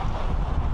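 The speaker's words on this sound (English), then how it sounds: "Just very, very windy here. Very windy." Strong wind buffets the microphone on the Golden Gate Bridge in San Francisco, a loud, continuous low roar with rumbling gusts, close and unbroken, with no voices.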